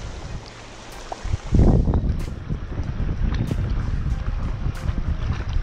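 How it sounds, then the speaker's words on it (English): Northeasterly wind blowing straight onshore at a rocky sea coast in Guernsey near an old fort, a steady broad rush with a louder gust early on and constant buffeting, no voices. "Hope that wind's not too much of a pain as well. Got a northeaster, it's blowing straight in behind."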